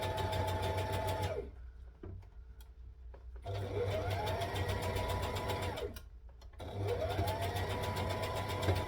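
A domestic sewing machine stitching fabric for a McCall's M8083 garment runs in three steady whirring bursts of rapid mechanical chatter, each spinning down to a stop, separated by quieter pauses with faint handling clicks.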